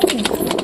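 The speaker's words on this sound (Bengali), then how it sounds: "কবুতরটা খুব সুন্দর বসে আছে।" Soft pigeon cooing from a coop at night, low murmuring calls running steadily through the short moment, close and moderately loud.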